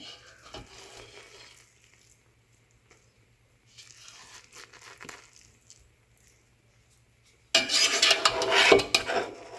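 A spoon stirs cooked chicken yakhni pulao in a pot, giving scattered soft scrapes and rustles of rice, then a louder, busier burst of scraping and clinking against the pot toward the end.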